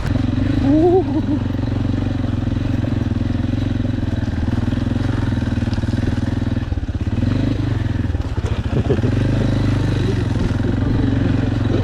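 A CFMOTO NK250 motorcycle ridden slowly, its engine droning steadily and close with low rumble and some clatter, no talk over it.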